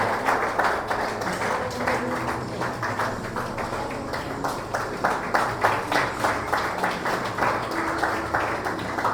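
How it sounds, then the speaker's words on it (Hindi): Sustained, rhythmic group clapping from a congregation greeting a student at a Sunday evening worship service, loud and continuous without pause. "जोरदार तालियों के साथ।"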